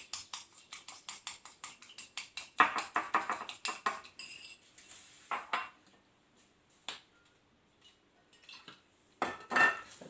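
A spoon clatters rhythmically against a pot while stirring a seafood mixture with harissa, quick regular taps at first, then scattered scrapes and knocks with quiet gaps.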